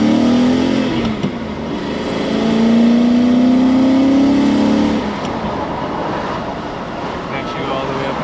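Mercedes E420 V8 engine revving up to high RPM, a rising pitch that holds steady for a couple of seconds before dropping back, heard up close with constant background noise.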